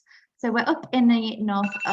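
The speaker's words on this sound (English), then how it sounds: "oh my word, sorry, that was my alarm" A phone alarm rings as a steady electronic tone beneath continuous close talking, starting faintly before the speech and carrying on under it.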